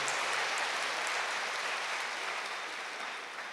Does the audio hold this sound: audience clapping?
yes